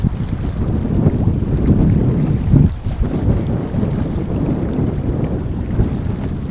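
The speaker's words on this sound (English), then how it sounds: "You'll hear that it's quite windy. Listen to this." Steady outdoor wind at a reservoir buffets the microphone with a low, continuous rumble, loud and close, with no voices.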